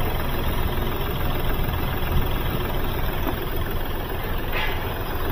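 A Hyundai Xcent engine being checked for a knocking sound runs at idle, giving a dense, steady, close mechanical rumble with faint ticking throughout and no talk.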